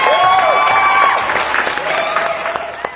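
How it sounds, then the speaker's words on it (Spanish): An audience at a children's Christian program claps for two guests, producing a short burst of loud, dense applause that fades toward the end, with some crowd voices mixed in. "Y pido un aplauso para ellos,"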